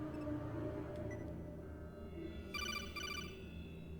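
Electronic phone ringtone in the Metal Gear Acid video game, a quiet repeating chirpy ring pattern sounding twice over a low background game hum.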